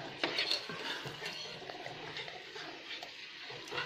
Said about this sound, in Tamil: இப்போ நம்ம அந்த சர்க்கரையை கிண்டணும்.